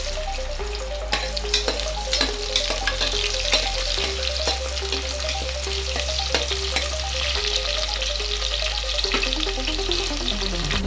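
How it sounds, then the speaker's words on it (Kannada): Chopped onions fry in hot oil and ghee in a pan, a steady dense sizzle with occasional stirring clinks and scrapes, cooking alone with no talk. "ಈಗ ಎಣ್ಣೆ ಕಾದಿದೆ, ಈರುಳ್ಳಿ ಹಾಕಿ."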